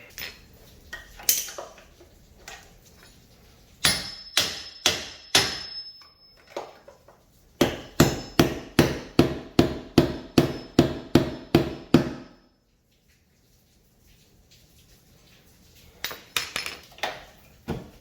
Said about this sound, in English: Might need to hammer it out a little bit.